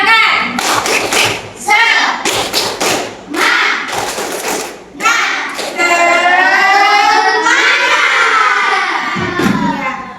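Students in an Indonesian classroom perform a rhythmic clapping chant, patterned bursts of claps alternating with pauses, mixed with loud group voices and drawn-out shouting near the end.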